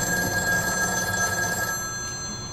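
A telephone at a police department rings with a steady, continuous bell tone, fairly loud and heard alone without talk.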